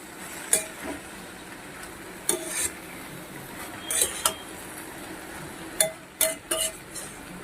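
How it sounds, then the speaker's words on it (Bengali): Greens and potatoes with turmeric being stirred in a pan, giving several soft, scattered scrapes and clinks of a utensil against the pan, moderately close with quiet pauses between them. "ভালো করে হলুদকে শাক আর আলুর সঙ্গে মিশিয়ে নেব"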